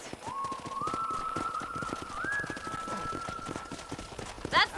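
Horses' hooves clip-clop at a corral in the video game Red Dead Redemption, a steady patter of close hoofbeats beneath a sustained whistle-like tone, ending in a short bright burst.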